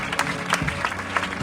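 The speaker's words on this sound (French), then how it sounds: "Grandes acclamations, nous acclamons tous cet un héros, le patriarche de l'église du réveil" Brief burst of clapping and crowd acclaim at a church funeral gathering honouring a revival church patriarch, with a few sharp individual claps standing out over a moderate crowd wash.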